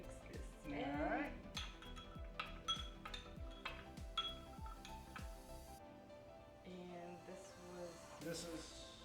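A rum drink being mixed in a glass, with a run of bright clinks and taps from ice or a spoon against the glass, fairly close, then quieter stirring while people talk.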